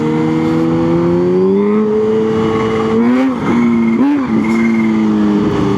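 A Kawasaki ZH2 supercharged naked motorcycle drones loudly and close, its engine note climbing steadily as it accelerates, then wavering and dipping briefly around gear changes before pulling on again.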